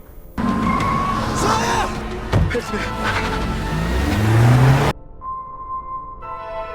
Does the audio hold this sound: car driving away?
yes